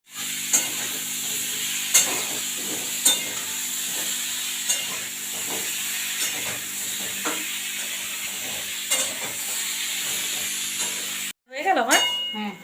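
Carrots frying in a pan give a steady, dense sizzle with regular clinks of a spatula against the metal, close and continuous, and a voice briefly speaks at the very end.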